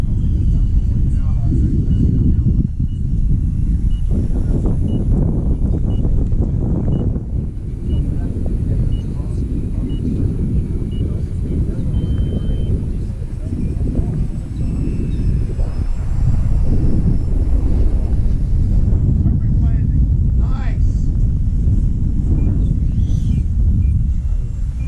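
A Freewing A-10 model jet with ducted fans comes in to land in a gusty crosswind, its whine faint and distant beneath heavy wind rumble on the microphone, with people talking outdoors.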